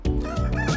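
Rooster crowing among free-roaming fowl outdoors in Porto, a brief, close, strained call with a harsh tonal cry.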